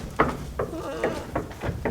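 Baby goats on a farm bleat in short, repeated cries, about five nasal calls in quick succession at close range, with no talking.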